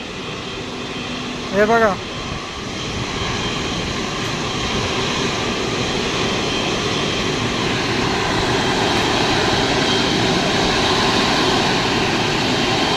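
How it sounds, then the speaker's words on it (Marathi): An IndiGo airliner taking off at Mumbai airport gives a broad, steady jet roar that swells and holds loud throughout, heard from a distance, with a brief spoken remark near the start. "तर इंडिगोचं विमान चाललंय टेक ऑफ साठी."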